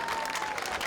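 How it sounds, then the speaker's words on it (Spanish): Brief burst of clapping from a small audience at a television show, a quick steady patter lasting under a second. "Un aplauso"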